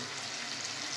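Vegetables frying in a spiced tempering for sambar, prepared as part of an Ashadhi Ekadashi fasting menu, give a steady, close, broadband sizzle that holds evenly throughout with no voices.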